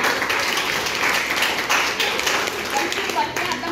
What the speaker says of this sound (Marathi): त्यामुळे त्यांच्यासाठी आपण पुन्हा एकदा टाळ्या वाजवा.